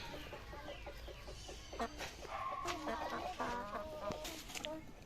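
Free-ranging hens cluck in a steady, overlapping chorus from nearby, with no rooster in the flock.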